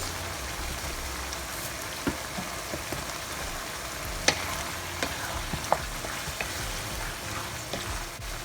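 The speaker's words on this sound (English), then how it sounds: "We'll allow it to simmer a bit." Minced meat for shepherd's pie simmering in a pan, a faint steady crackle and bubbling with a few soft clicks and taps throughout.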